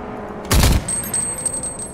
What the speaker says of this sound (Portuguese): Dei um tiro nos caras.